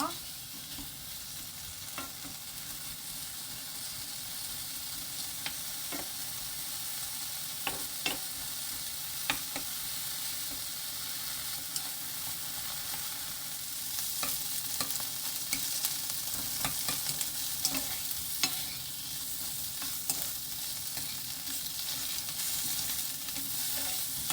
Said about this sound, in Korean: 식용유 넣지 말고 그냥 볶아야 느끼하지 않고 맛있겠죠.